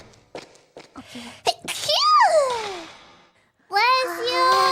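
A sneeze from a young woman, one sharp burst near the mic with a rising, squealing voiced tail, followed by another voice speaking close by.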